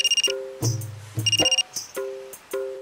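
A mobile phone plays a melodic electronic ringtone of quick repeating beeps and chimes in short phrases, close and clear with no talking.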